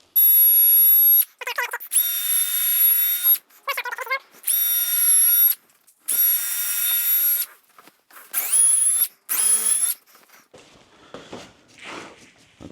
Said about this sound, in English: So I'm going to get that all on, and then we'll get this all drilled out.